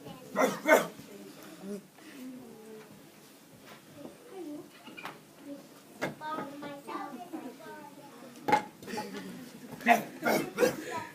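A dog barks in short, loud bursts and whimpers in between, with quieter stretches, and a voice talks over parts of it.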